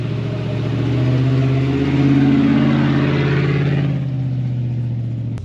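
A Range Rover P38A 4.0 HSE in low ratio off-road on cheap road tyres, its engine a steady, loud mid-pitched drone with a gentle rise in revs, then easing away near the end.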